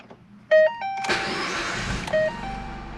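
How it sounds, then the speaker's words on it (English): A Ford Focus engine cranks and catches on the first try after a few short chime tones, then settles into a steady idle with a brief rise in revs near the end, close and loud, with no voices. "let's see if this thing starts"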